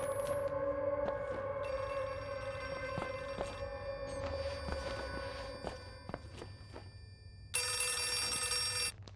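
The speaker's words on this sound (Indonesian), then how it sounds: "Okay, telepon." A telephone rings repeatedly inside the horror video game Outlast 2, bright electronic bell bursts with short gaps over a dark droning ambience and occasional footsteps, ending in a louder, harsher ring.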